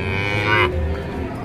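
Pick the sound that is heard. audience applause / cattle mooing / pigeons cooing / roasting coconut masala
cattle mooing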